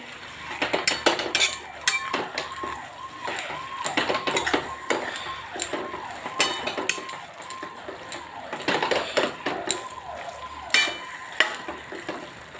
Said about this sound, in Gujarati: આપણે ઘીના અંદર સરસ મજાની દૂધી શેકાઈ રહી છે.